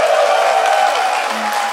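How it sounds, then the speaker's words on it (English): Conference audience at DEF CON 20 clapping and cheering in a large hall, a dense, loud wash of applause with a few whoops rising over it. "Please clap for that."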